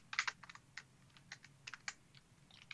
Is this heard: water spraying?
no